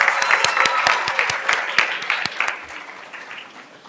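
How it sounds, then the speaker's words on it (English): Audience applause at a Minnesota Math and Science Academy Class of 2022 graduation ceremony, a dense round of clapping with a few sharp louder claps, steady at first and slowly fading toward the end. "This is a round of applause."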